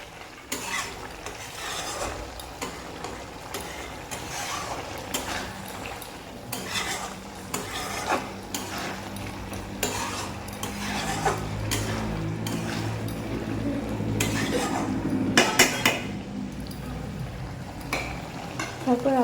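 Banana flower and fish head curry gets stirred in a pot, with a steady scraping of spoon against metal, soft bubbling beneath, and occasional clinks repeated throughout, close and moderately loud.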